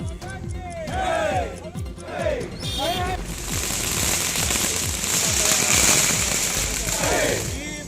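A rapid string of firecrackers bursting in a continuous crackling chain outside a BJP office, with a crowd of party workers cheering and shouting around it.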